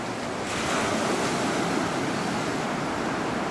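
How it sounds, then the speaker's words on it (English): Sea waves washing onto the shore at Sestri Levante on the Italian coast, a steady loud broadband surf roar with some wind noise on the microphone, continuous throughout and without voices. "And now we're by the sea."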